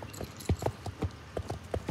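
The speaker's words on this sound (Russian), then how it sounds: "Такая смешная рысь." A pony trots in Star Stable Online, its hooves clip-clopping in a steady, moderately loud rhythm of paired beats at close range.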